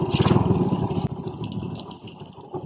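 A Honda XRM 110, Yamaha Vega 110 or Suzuki Raider 150 motorcycle runs steadily after a battery drive four-pin conversion, its engine a loud, close, continuous putter that eases slightly after a brief surge.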